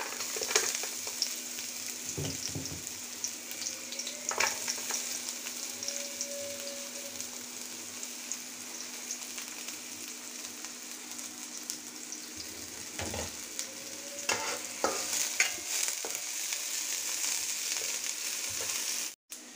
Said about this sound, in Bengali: আদা রসুন পেঁয়াজ গোল্ডেন ব্রাউন করে ভেজে নিলাম